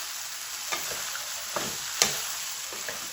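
Peas, carrots and potatoes go into a hot pan to sauté, a soft steady sizzle broken by a few sharp spoon taps and scrapes, close and fairly quiet.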